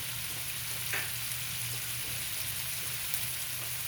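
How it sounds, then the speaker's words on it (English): Vegetables for a homemade supreme pizza sizzling in a skillet, a steady loud hiss of frying throughout with faint stirring clicks and no talk. "So I'm gonna take my vegetables and I'm gonna saute all my vegetables."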